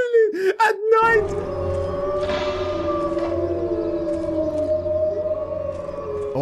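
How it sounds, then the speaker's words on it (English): Long, eerie ghostly wailing from the hunting video game Cabela's Dangerous Hunts 2011 rises and falls in drawn-out moaning tones after a short burst at the start, sustained and fairly loud. "the entire time you hear horrible ghostly wailing"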